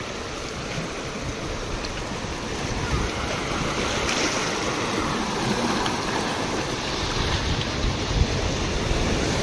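Waves wash onto Pebble Beach below Cabo de Rama fort in Goa, a continuous loud rush of surf mixed with wind noise on the microphone.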